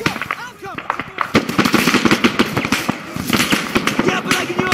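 Rapid gunfire bursts and single shots ring out in an Arma 3 battle between German Bundeswehr and Russian Spetsnaz forces, loud and close, with voices shouting over the shooting.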